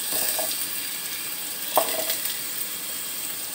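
Potatoes and carrots sizzle steadily in hot oil in a pan for chicken pochero, a continuous close crackling hiss with a few brief louder spatters and no voices.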